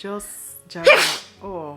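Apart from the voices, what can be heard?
sneeze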